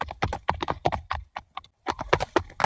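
Horse hooves clip-clop in quick, irregular bursts in an animated Hindi moral story as thieves unload goods from their horses, with a short pause midway.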